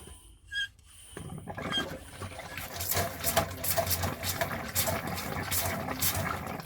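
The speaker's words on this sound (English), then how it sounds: "now I'm ready to pump to 15 PSI and no more" A hand pump pressurises a caravan's water system to 15 PSI through a Floe drain-down device, giving a quiet run of quick, rhythmic pumping strokes with airy, watery hissing after a soft click at the start.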